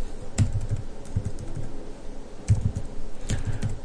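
Typing on a computer keyboard while composing an HTML email link, with quick clustered bursts of close key clicks separated by short pauses.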